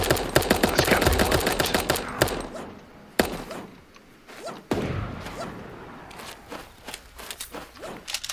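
Bursts of rapid gunfire in Super Animal Royale, a silenced pistol among them: dense clattering shots at first, then scattered sharp single pops and thuds with quieter gaps between them.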